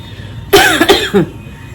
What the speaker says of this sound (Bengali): কাশিটা আছে, তবে খুবই হালকা